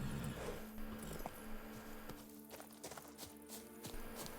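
Roach, Geralt's horse in The Witcher 3: Blood and Wine, clip-clops along with distinct, fairly quiet hoofbeats in an uneven walking rhythm against soft ambient game sound.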